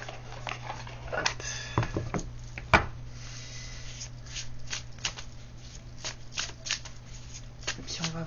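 A deck of oracle cards being shuffled by hand close up: soft riffling and rubbing with a few sharper taps, under a low steady hum with no talking.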